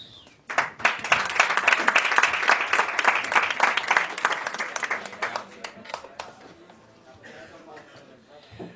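A studio audience breaks into loud, sustained applause for musicians arriving to give a concert on a Spanish TV show, with dense clapping and a few cheers that gradually thin out and fade over several seconds.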